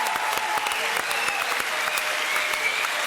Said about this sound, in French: Applaudissements pour Pierre Bellemare